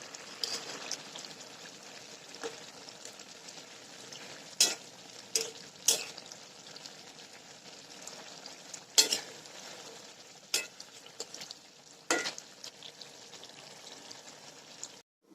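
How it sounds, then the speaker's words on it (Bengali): Bata fish cooking in a thin curry sauce with water lily stems, simmering with a quiet steady sizzle while a spoon stirs and clinks against the pan in sharp, irregular knocks. "এবার আমি এর উপর দিয়ে মাছগুলো দিয়ে দেবো বাটা মাছ দেবো একটু হালকা নেড়ে দেবো"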